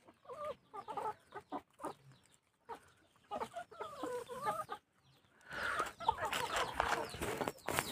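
A fighting-breed rooster, heavy and bow-legged, gives a run of clucks and calls at close range, a louder burst of calling near the end, with scuffling and a little background noise between.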